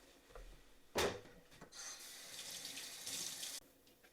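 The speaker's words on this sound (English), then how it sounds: "I'm just going to wash my hands yet again" Hands are washed under a running kitchen faucet: a sharp knock as the tap opens, then a steady close rush of water with rubbing splashes, stopping abruptly near the end, with no speech.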